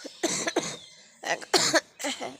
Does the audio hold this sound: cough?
yes